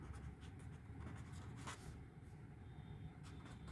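Pen writing on paper while working out an area and painting-cost calculation, a faint, continuous scratchy scribble with short strokes, close but quiet against a steady background hum.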